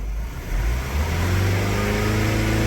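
A Mazda car engine revs up from a low rumble to about 3,000 RPM and holds a steady higher drone, close and fairly loud.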